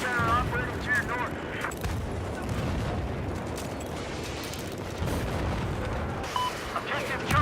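Machine gun fire and heavy battle noise in a war video game set in Ukraine: a dense, continuous clatter of bursts and booms, with a voice speaking over the combat.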